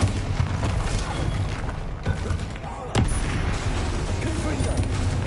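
Bombarda explosion spell in the Hogwarts Legacy video game, heard as dense, continuous booming blasts and rumbling impacts, loud and close, with one sharp crack near the middle and a voice speaking over the combat.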